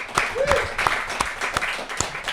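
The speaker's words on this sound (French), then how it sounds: "Applaudissez-vous." Brief applause in a podcast studio, a few people clapping in sparse, uneven bursts close to the microphone, with faint voices around it.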